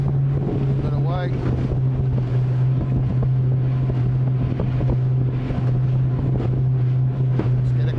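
A Mercury Racing powerboat fitted with a MoTeC MCM112 engine controller drones loud and steady across choppy water, its deep engine hum constant beneath buffeting wind noise and slapping hull impacts.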